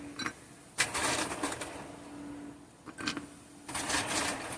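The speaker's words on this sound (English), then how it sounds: "my ice machine is next to me here, and I'm going to go ahead and fill this up with ice" Ice cubes clatter from a countertop ice machine into a cup in several bursts, rattling and crunching with quieter pauses between pours.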